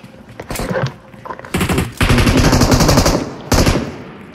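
Automatic gunfire from PUBG Mobile comes in several loud, rapid bursts of dense, close rattling shots separated by brief gaps.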